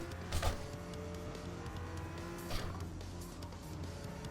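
A racing car engine in the video game Gran Turismo 7 drones steadily with tonal harmonics, rising in two louder surges, with no talking.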